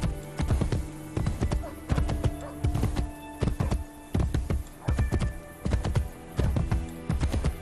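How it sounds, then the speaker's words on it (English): Rhythmic hoofbeats of a galloping horse in Assassin's Creed Brotherhood, steady and fairly close, repeating in quick bursts with a faint low hum underneath. "Back to horse riding."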